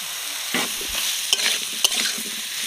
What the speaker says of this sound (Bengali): ওল আলু ভালো করে মশলার সাথে কষে নিয়েছি